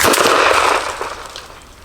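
A Mossberg 500 20 gauge shotgun fires Federal Heavyweight TSS number 9 shot during an outdoor turkey pattern test, a single loud, close blast at the start that decays into a fading echo.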